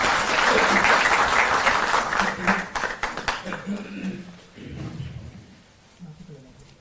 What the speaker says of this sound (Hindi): एक बार जोरदार तालियों से आप आदरणीय श्री विजय कुमार देव मुख्य सचिव महोदय का अभिनंदन और स्वागत